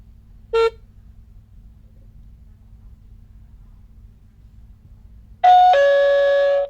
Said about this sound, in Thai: เมื่อเราได้ยินเสียงติ้งต่องจากกล้องแล้วนะครับ